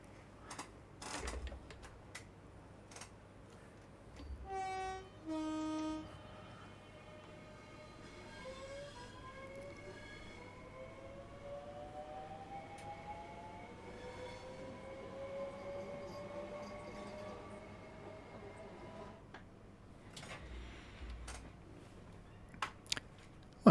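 A Southeastern High Speed Class 465/9 electric train departs in a train simulator game, its motor whine climbing steadily in pitch over quiet running noise, with scattered clicks and clunks and no talking.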